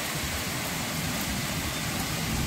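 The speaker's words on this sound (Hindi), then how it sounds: "कितना जोरों की बारिश हो रही है" Heavy rain falling in a steady, dense hiss that fills the whole moment without a break, fairly loud, with no voices.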